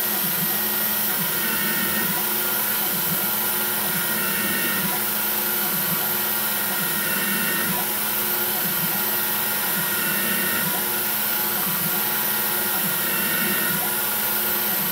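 A machine tool drills steel for low-profile edge jaws with a chip-breaking, full-retract drill cycle, sending up a steady loud broadband whir with faint rhythmic pulsing across the whole span and no talk.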